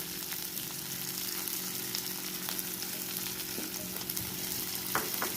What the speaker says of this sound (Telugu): మీకు ఉల్లిపాయలు వేగిపోయి మరీ ఎక్కువగా వేగకూడదు.